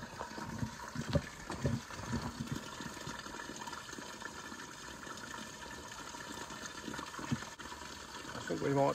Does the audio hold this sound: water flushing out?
yes